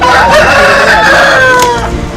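Roosters crowing and clucking in Ramanathapuram, Tamil Nadu, where the birds are being readied for cockfights; loud, close, overlapping calls fill the whole stretch with no talk.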